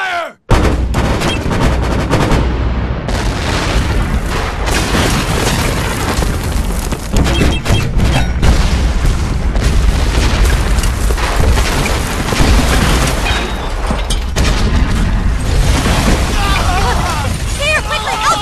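Heavy cannon blasts and gunfire-like bursts pound continuously, loud and dense, over a wall of battle noise with shouting voices mixed in.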